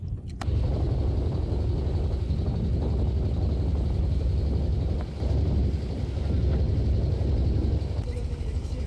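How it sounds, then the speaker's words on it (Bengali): A river trawler chugs along at walking pace with a loud, steady low engine drone and wind buffeting the microphone throughout, no pause in the noise. "হাঁটার গতিতে ট্রলার নিয়ে এগিয়ে চলছি"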